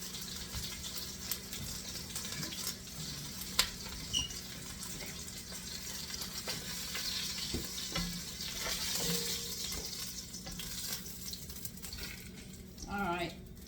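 Minced garlic fries in a pan with a low, steady sizzle, stirred now and then, with a few sharp clicks and faint water sounds around it.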